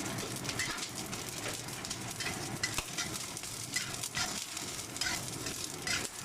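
Preserved squid being stirred in a pan, a steady scraping and sizzling with soft clatters throughout, fairly close and continuous, with no talk.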